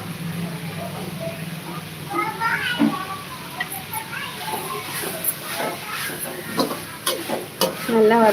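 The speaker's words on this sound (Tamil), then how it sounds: "அடுத்தது வந்து பருப்பு வகையில் வறுத்து எடுத்துக்கலாம்" Lentils roast in a pan for mint chutney, a soft dry sizzle with occasional stirring clicks, partly under voices, including a child, talking in the background.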